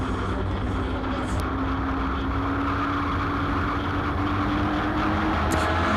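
Racing cars, a Datsun among them, accelerate hard along a circuit toward a corner, a continuous droning engine roar held at steady loudness with no voices over it.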